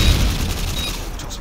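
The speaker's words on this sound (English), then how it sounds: "Throwing stun grenade." A stun grenade goes off in Call of Duty MW2 during a Search and Destroy match on the Afghan map, a loud low boom that decays into a rumbling roar, with gunfire-like crackle along with it.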